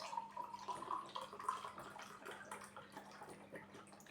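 Pineapple-apple nectar pours into a glass in a quiet room, a soft thin trickling stream with small gurgling ripples, faint and close, running for several seconds and tapering off near the end, with no talking over it.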